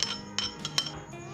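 Vegetable ghee being mixed into dough in a bowl, with a few light clinks and taps of a utensil against the dish, brief and fairly faint.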